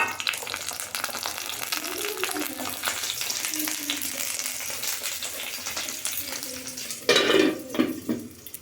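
Cooked rice is reheated and stirred in a pan, making a continuous soft sizzle with scraping strokes, then louder clattering of utensil against pan near the end.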